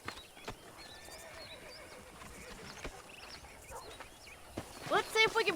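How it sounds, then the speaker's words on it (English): A horse neighing in the Red Dead Redemption video game on a ranch, a loud close whinny near the end after quieter hoof clip-clops and faint background calls, with no talking. "That ranch hand said there's a pack of wild horses nearby."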